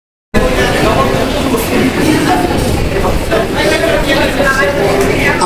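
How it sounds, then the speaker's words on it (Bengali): Sustained dense applause from an audience greeting a retiring teacher at a college farewell programme, loud and continuous with crowd murmur, starting abruptly after a brief silence. "আমরা স্যারকে করতালির মাধ্যমে শুভেচ্ছা জানাই।"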